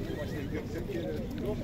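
A horse neighs amid the steady bustle of a crowded horse market in Bishkek, partly buried under continuous nearby chatter and background noise.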